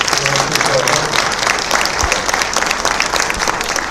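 An audience at a League of Women Voters recall forum in Oxnard applauds the four incumbents, with steady, dense clapping at a fairly loud level throughout and a voice briefly heard at the start.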